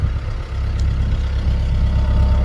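A Ventrac tractor, stuck around a tree, idles steadily nearby with a deep low rumble that holds constant throughout, with no talking.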